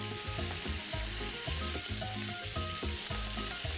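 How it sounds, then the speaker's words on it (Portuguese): Meat sears in a pan during feijoada cooking, a dense, close sizzle with crackling fat pops and a quick rhythmic stirring or scraping pattern throughout, no voices. "Agora eu vou virar de novo já a minha carne, para ela poder selar o outro lado."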